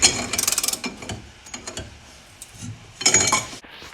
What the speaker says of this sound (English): Got our bolt spinning